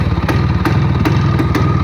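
A battery-started motorcycle engine idles steadily close by, a continuous low throbbing rumble with faint periodic clicks, no talking.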